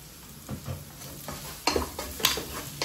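Squid chilli fry, Goan style, is stirred in a pan: soft scraping strokes and a few sharper clinks of the spoon against the pan over a low, quiet sizzle.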